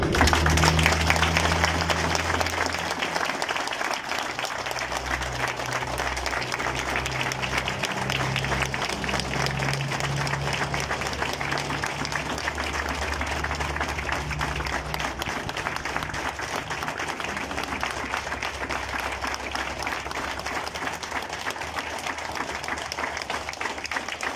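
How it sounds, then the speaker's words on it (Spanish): Sustained audience applause as a tribute at a memorial honoring a fallen metropolitan police officer, steady clapping filling the whole stretch, with some low crowd murmur and a few voices early on. "Y quisiera, a manera de homenaje, un minuto de aplausos para este elemento, Carlos."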